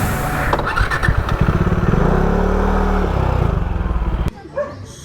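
A motorcycle engine idling and revving as the bike is moved backward on a road in the Darjeeling hills, a dog barking repeatedly nearby, then the engine cuts off abruptly.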